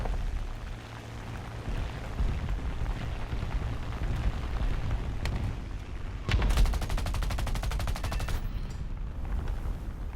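Four .50 caliber machine guns on a P-51 Mustang firing in War Thunder, a steady rattling burst running under the engine drone, with a denser, louder volley near the middle of the clip before the sound settles back to the aircraft's hum.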